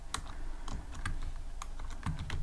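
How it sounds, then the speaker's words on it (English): Close, quick keystrokes clatter on a computer keyboard while someone writes Python code, a brief flurry of uneven taps with no speech. "I'm gonna type command"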